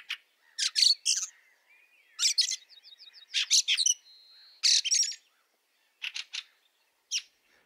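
Fieldfare calling from a firethorn bush in a winter garden, a series of harsh chattering chirps in short separate bursts, close and clear, with quiet pauses between and no other sounds.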